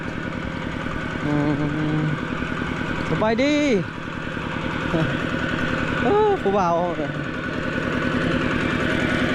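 A farm tractor engine idles with a steady low chugging pulse in a rural village without electricity, while people chat loudly over it.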